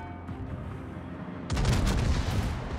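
Heavy secondary guns of the battleship Bismarck open fire in a naval warfare game, a sudden loud burst of booming shots cutting in halfway through over a low engine and ambient rumble.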